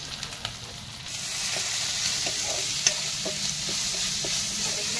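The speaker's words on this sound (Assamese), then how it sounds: "ধুনীয়াকৈ পিঁয়াজখিনি ভাজি লৈছোঁ।" Onions frying in a little oil in a pan with salt and turmeric, a steady close sizzle joined by scraping stirs of a spatula and light clicks, no talking.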